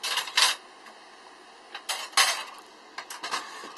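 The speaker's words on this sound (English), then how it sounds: "doing dishes." Dishes being washed in the cabin of a sailboat after breakfast: several bursts of clattering plates and clinking cutlery, close and moderately loud, separated by quieter gaps, with no talk.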